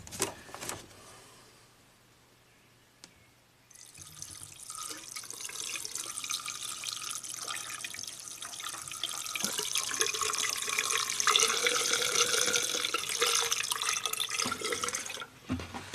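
Blue washer fluid flowing out of a spout on an '84 Porsche 928 S, a quiet pause and then a steady running, trickling flow lasting about eleven seconds before stopping.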